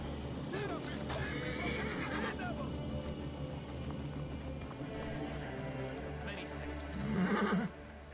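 A horse whinnies and its hooves clip-clop in Assassin's Creed Origins, with a sharp neigh near the start and another louder burst near the end over steady game ambience and a low hum.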